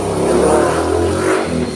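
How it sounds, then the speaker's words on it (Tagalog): A motorcycle engine revs loudly and steadily for about two seconds, with a close, rough mid-range drone and no voices over it. "Ingay ng motor."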